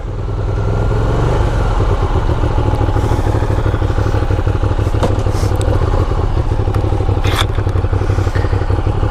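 A 2007 Ducati Monster 695 with just under 5,000 miles rides along, its engine a loud, steady, close rumble with rattling and wind noise throughout and no talking.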